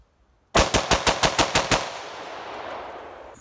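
A rifle fitted with an ALG Defense SCB muzzle device fires a rapid burst of about eight loud, sharp shots in quick rhythm, followed by a long echoing tail of outdoor reverberation.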